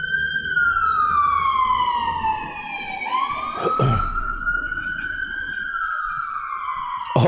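A wailing ambulance siren sweeps up and down steadily as it passes, loud and close, with traffic rumble beneath and a brief thump midway.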